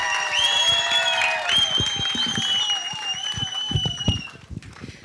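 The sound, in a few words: audience applause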